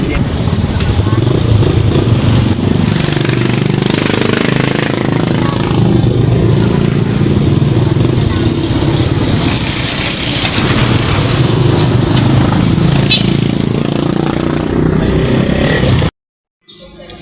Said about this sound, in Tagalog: Kumuha po sila ng sasakyan doon, motor po.